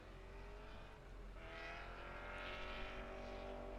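The Elite Roofing Nissan S14 drift car, number 555, runs a Formula Drift Pro Spec qualifying pass at Grantsville, Utah, with its engine revving and climbing in pitch from a distance, a steady, fairly faint roar that swells slightly.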